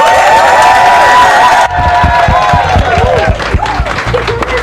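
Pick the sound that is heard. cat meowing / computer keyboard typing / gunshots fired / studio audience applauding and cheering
studio audience applauding and cheering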